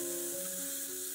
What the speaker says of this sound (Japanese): 順にごぼうを加え、人参、大根も加えてよく炒めます